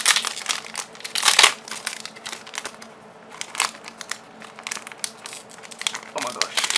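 A Pokemon TCG Sun booster pack's foil wrapper is crinkled and torn open up close. Loud crackling and crumpling bursts come in irregular spurts, with brief pauses between them.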